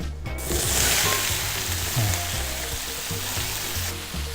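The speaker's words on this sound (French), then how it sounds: "On fait revenir nos légumes." Vegetables sauté in a pan after lamb shoulder has been browned and its fat discarded. A steady, close sizzle rises sharply at the start and carries on, with faint stirring underneath.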